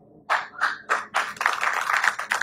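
Clapping from an audience at a yoga and healthy-living gathering: four evenly spaced claps at first, then a dense, continuous round of clapping nearby.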